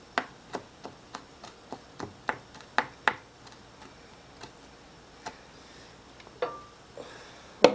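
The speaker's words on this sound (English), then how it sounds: "we're going to take our ginger and our garlic and we're going to chop that up into pieces" A knife chops ginger and garlic into pieces on a cutting board, a series of sharp, fairly regular taps close by, pausing briefly before a few final louder chops.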